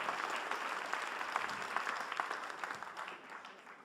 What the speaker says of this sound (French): je vous laisse partir avec les applaudissements du public